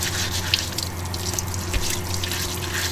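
Food is washed under a running kitchen tap for a Sichuan mao cai hotpot with beef, duck intestine and tripe, water splashing and dripping steadily at close range with small irregular splatters.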